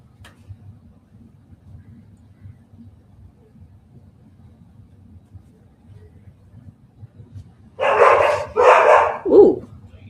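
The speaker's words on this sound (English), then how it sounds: "the dogs just lost it" Several dogs break into sharp, loud barking after a long stretch of quiet room tone, two bursts then a single bark near the end, close by and with no talk over them.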